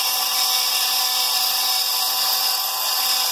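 A sharp grinding bit cuts a window into fire agate with lots of water, giving a steady, high-pitched whine that stays level and close throughout, with no pauses.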